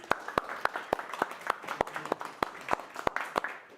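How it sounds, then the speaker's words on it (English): A small audience at an in-person Elixir programming meetup claps briefly. Individual hand claps stand out sharply as a loose, uneven patter of close, distinct smacks that lasts a few seconds. "And one hand of applause,"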